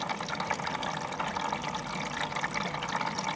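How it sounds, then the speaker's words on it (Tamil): A Samsung front-load washing machine fills with water, a steady rushing continuous broadband pour with no pauses, close and moderately loud. "தண்ணி இதில் போகுது, இதில் சவுண்ட் கேட்குது பாருங்க"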